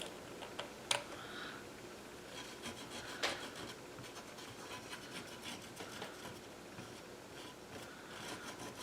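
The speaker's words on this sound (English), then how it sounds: "So just to get the surface tarnish and crud off of the connector" A light abrasive rubbing the surface tarnish off old connector pins on a vintage Sol-20 computer board: faint, close, dry scratchy strokes with a couple of sharper scrapes.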